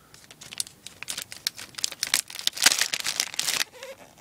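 Crinkly plastic packaging being cut and torn open in a rapid series of crackling snips and rips, close up with no talking.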